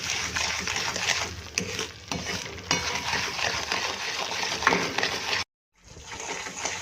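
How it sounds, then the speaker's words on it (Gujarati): Moraiya sheera is stirred in ghee over a high flame, a continuous gritty scraping and sizzling with small clinks of the spoon against the pan, briefly cutting out before resuming. "હવે થોડી વાર આપણે ગેસને હાઈ કરી દઈશું અને આ રીતે કન્ટિન્યુ હલાવી અને એને પ્રોપર ઘીમાં શેકાવા દઈશું"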